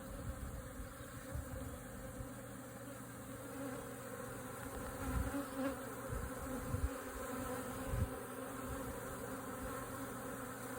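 A swarm of honey bees gives off a continuous, even buzzing drone, faint and steady throughout with no voices.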